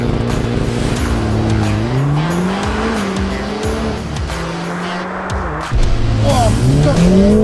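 A Mercedes A45S AMG pulling away hard, its engine note climbing and dropping through gear changes, then revving loud again near the end, close and dominant with faint tire noise.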